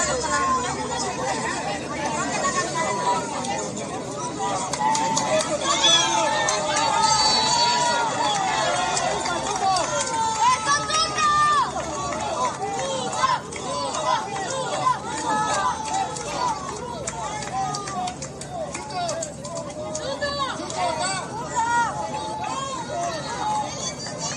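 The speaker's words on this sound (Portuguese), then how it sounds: "vocês conseguem perceber aqui que ele foi ovacionado ao chegar para votar" Crowd greeting candidate Tuto Quiroga as he arrives to vote in Bolivia: a dense, close hubbub of many voices shouting and chanting, with rising and falling cheers and excited calls throughout.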